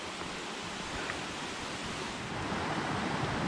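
Forney Creek water rushes across a hiking trail crossing in the Great Smoky Mountains, a steady broadband wash that swells slightly louder toward the end, with no voices.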